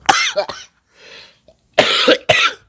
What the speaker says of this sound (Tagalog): Inuubo tayo.